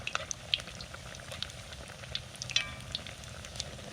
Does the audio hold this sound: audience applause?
no